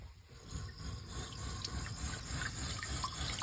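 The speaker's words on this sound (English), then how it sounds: "And it fills the toilet up with water." Water rushes steadily from an RV bidet into the toilet bowl, a continuous close filling hiss with no voices.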